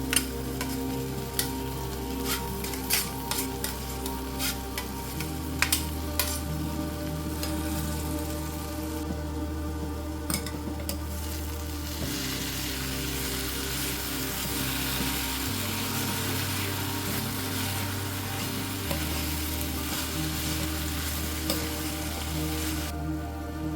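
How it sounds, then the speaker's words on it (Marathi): Dried fish (sukat, javla) frying with spices in a pan, Agri Koli style, gives a steady, continuous sizzle with occasional stirring scrapes, close and alone for the whole stretch. "आता हे मसाले आपण चांगले परतून घेऊया. आता यामध्ये घालूया ही सुकट."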